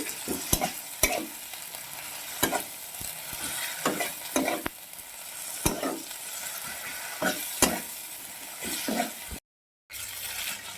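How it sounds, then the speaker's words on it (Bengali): Ginger garlic paste frying over medium heat in a pan, a steady close sizzle broken by repeated spatula scrapes and knocks, followed by a short silence near the end. "আদা রসুনটা একটু ভেজে নিই"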